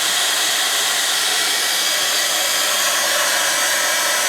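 A heat tool blasts hot air over a sea-themed craft journal page, a steady loud whooshing roar that holds unbroken from start to finish with no talking.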